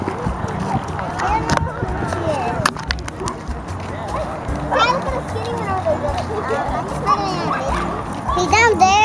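Several dogs bark in short bursts in a busy outdoor family setting, mixed with children's voices and adults talking, the barks rising louder toward the end.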